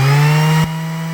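A new electric sander whirs with a steady, loud, close buzz. The pitch drops partway through as the tone shifts, and no voices are heard.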